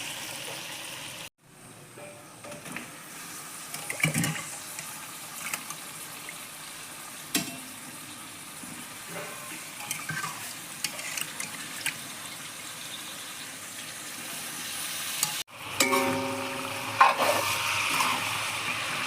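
Pork frying with elephant apple (ou tenga) and spices, a steady close sizzle with occasional stirring knocks and scrapes, briefly cut by a short gap and a louder burst of spattering near the end.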